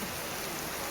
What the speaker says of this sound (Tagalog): Maulan dito sa Aklan, mga kaibigan.